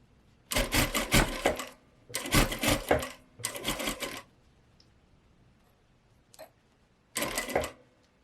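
A sewing machine stitches an invisible zip into a seam, running in four separate bursts of close, rapid mechanical whirring, each lasting about a second, with short quiet pauses between them.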